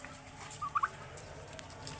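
A caged turkey on a backyard poultry farm gobbles once in a short burst of two or three quick notes, faint and somewhat distant over steady background noise.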